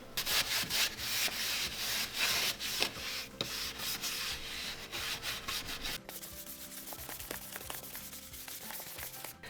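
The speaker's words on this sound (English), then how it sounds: "I'm just taking this wax brush, my stubby wax brush, and I'm just lightly going over the piece" A stubby wax brush scrubs back and forth over a painted wood piece in quick, dry, bristly rubbing strokes, close and steady with brief pauses between passes.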